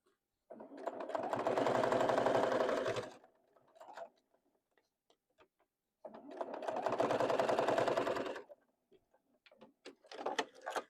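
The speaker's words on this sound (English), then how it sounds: "let's stitch this right here along this edge" Sewing machine running along the edge of a bag in two separate bursts of steady, close whirring, with quiet handling clicks and rustles in the pauses.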